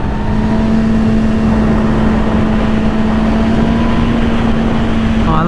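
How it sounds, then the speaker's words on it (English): A 2020 Yamaha R6 inline four-cylinder engine drones loudly and steadily while riding, a smooth sustained tone under heavy wind rush with no speech. "Oh, I love the sound of this bike."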